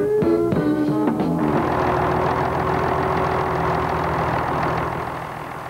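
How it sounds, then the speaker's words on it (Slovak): A Zetor UR II tractor diesel engine idles at minimum revs, a steady close low rumble with a knocking mechanical texture, preceded by a brief tonal sound at the start and fading slightly toward the end. "Pri kontrole vstrekovacích ventilov motor beží na minimálne obrátky."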